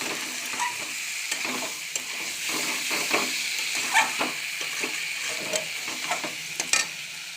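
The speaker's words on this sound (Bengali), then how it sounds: "আমার এটা মশলায় ভাজা হয়ে গেছে" Broccoli and potato frying in spices in a pan, a steady close sizzle and hiss with repeated soft scraping of stirring throughout, no voices.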